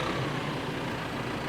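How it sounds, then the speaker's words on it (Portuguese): A tractor engine rumbles steadily with a deep, continuous low drone that stays loud and unbroken from start to finish, with no voices over it. "Foi com o ronco do trator."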